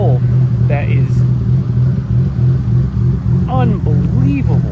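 A Nissan R32 GTR with HKS parts drones under load as it accelerates, its engine hum steady and loud inside the cabin while someone talks over it.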